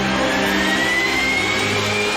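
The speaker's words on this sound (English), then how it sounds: "Sitting either side of the rotor are the twin turboshaft jet engines." Twin turboshaft jet engines of a Sikorsky S-92 helicopter running, a steady close whine with a rising tone over a broad, constant roar, no voices.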